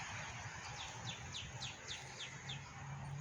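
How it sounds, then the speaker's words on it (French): Small birds chirp in a quick repeating series of high notes, faint and distant over steady broadband background noise, at a seaside park in La Saline-les-Bains, Réunion. "Les petits oiseaux."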